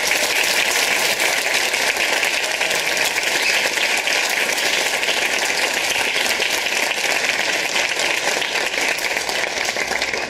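A school audience at a preparatory-school anniversary event gives sustained, dense applause, loud and steady for the whole stretch with no voices standing out.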